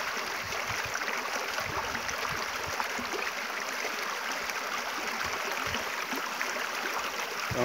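A shallow forest stream runs low through mountain woodland on a dry day, giving a steady, close, unbroken rush of water with no voices.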